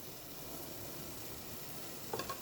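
Tomato masala sizzles and fries in a pan for a taro root curry, a soft, steady crackling hiss with a brief stirring clatter near the end. There is no talk.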